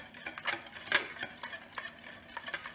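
A whisk ticks and scrapes against a bowl of homemade mayonnaise in quick, uneven strokes, with soft rhythmic clicks close up and no voices.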